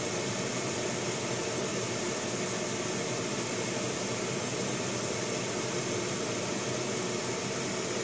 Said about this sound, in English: Okay, darling, hit the air conditioner. Air conditioner's on.